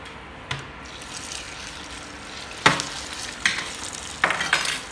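Chicken dropped into a pan of hot oil for frying, a low steady sizzle broken by a few sudden bursts of crackling and stirring clatter, close and without talking.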